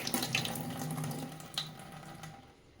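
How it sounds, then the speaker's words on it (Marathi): A household tap trickles with only a thin, low flow of water, a soft steady splashing into a sink that stays fairly quiet and close throughout. "नळांना पाणी एवढं थोडं थोडं चालू आहे"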